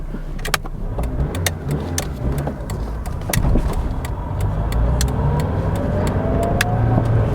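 A Ford Puma pulls away, its engine note loud and close, rising as the car accelerates, with sharp clicks and rattles from the car scattered throughout.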